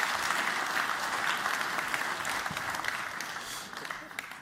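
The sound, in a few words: audience clapping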